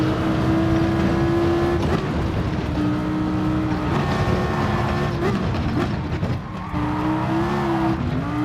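The Dodge SRT Tomahawk's engine howls in a video game lap of the Nordschleife, pitch climbing through each gear before dropping at shifts, steady and close with tire squeal in places.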